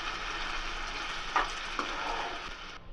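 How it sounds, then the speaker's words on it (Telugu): Leafy greens with tamarind leaves sizzle steadily in a hot seasoning tempering while being stirred, giving a constant frying hiss with a couple of brief scraping knocks from the spoon. "మనం ముందుగా ఎనిపి పెట్టుకున్న ఆకుకూరను అందులో వేసుకోవాలి. ఈ పోపుని, ఆకుకూరను అంతా కలిసే విధంగా కలుపుకోవాలి."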